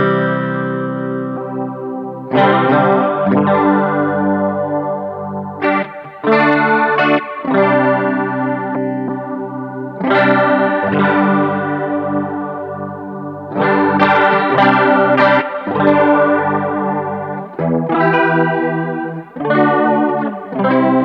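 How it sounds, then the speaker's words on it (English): Electric guitar played through the chorus modulation of a Line 6 HX Effects unit, a run of shimmering, slightly wavering chords and picked notes with short pauses, loud and close with no talking. "so that's a good chorus sound."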